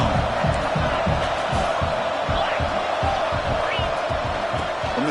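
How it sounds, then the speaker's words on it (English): A stadium crowd in the College Football 26 video game roars steadily during a Michigan playoff game against Oregon, a dense continuous wall of cheering with rhythmic low thumping beneath. "the crowd coming to life here trying to help this defense down in the red zone"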